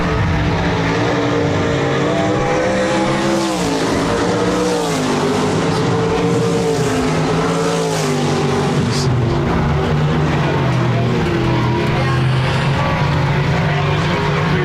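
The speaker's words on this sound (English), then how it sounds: "RaceSaver Sprint's getting stretched out now here on Park Jefferson Speedway as Elliot Almdahl continues to pull away." RaceSaver sprint cars roar around the dirt oval at Park Jefferson Speedway, a loud, sustained engine drone with pitch sweeping up and down as the pack passes, captured from the grandstands with crowd noise underneath.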